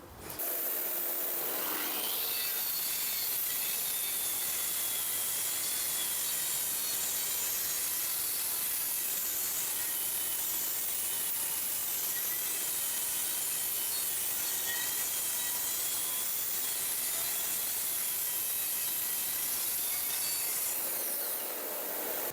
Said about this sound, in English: One long straight cut from the edge of the plywood with the track saw and the parallel guide system.